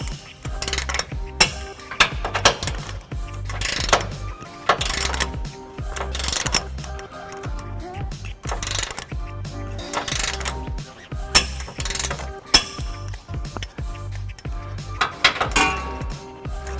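A hand ratchet tightens trailer hitch bolts on a 2011 Nissan Titan pickup, clicking in quick bursts of strokes with short pauses and the odd metallic clink as the tool is repositioned.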